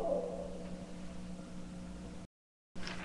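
An owl hoots faintly at night near a back deck, low and steady against a hiss of background noise, with a brief silent gap before the sound returns.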